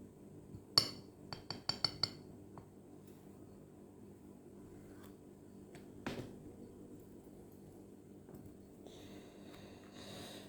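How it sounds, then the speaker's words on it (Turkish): A coffee cup is handled for fortune reading, giving a quick cluster of light clinks and taps of porcelain early on, then a single knock and faint rustling handling in a quiet room. "Şimdi fincanımı açıyorum arkadaşlar."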